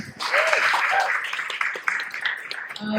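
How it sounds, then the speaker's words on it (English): Audience at an LGBTQ+ acceptance panel in Hong Kong bursts into applause, a dense wash of clapping that carries steadily for a few seconds with a voice briefly heard over it. "So again, round of applause for Henry"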